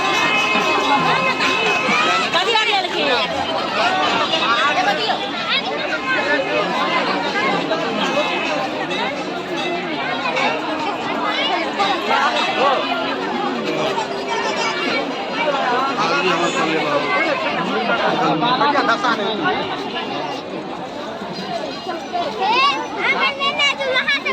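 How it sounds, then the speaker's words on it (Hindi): A large crowd on the Raj Palace campus in Rajnagar, Madhubani, makes a loud, unbroken babble of many overlapping voices, including children, filling the whole stretch without pause. "बहुत भीड़ है।"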